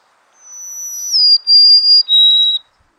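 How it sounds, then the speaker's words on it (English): Recorded song of a golden-crowned sparrow, a clear, high whistled phrase of a few sustained notes stepping downward, played back cleanly with no talk. "So here's a golden-crowned sparrow,"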